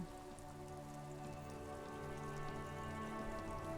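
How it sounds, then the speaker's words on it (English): Rain falls steadily in the Disco Elysium video game, a soft, even patter under a low layered ambient hum. It stays faint and constant throughout with no voices. "I like the sound of the rain."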